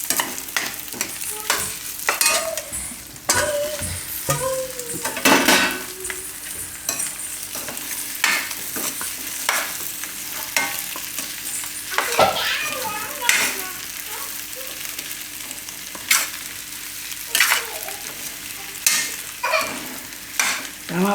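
Potatoes frying and being stirred in a pan for a Gujarati sesame-potato curry, with repeated scraping stir strokes over a steady sizzle, close up, with a voice faintly in the background.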